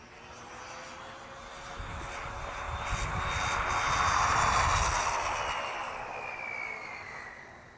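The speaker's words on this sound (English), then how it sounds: "every car run, regardless of what it is, when you start gearing it up, it sounds like jet rockets coming by" An HPI Maverick QuantumR RC muscle car running on a 3S LiPo spools up to a high-pitched, jet-like whine as it passes, building from moderate to loud and fading away over several seconds without talk.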